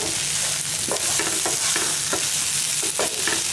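Potatoes cooking with chilli and coriander powder masala in a pan for a gongura potato fry give off a continuous close sizzle, broken by rhythmic scraping strokes of a spoon stirring them through the spice mix.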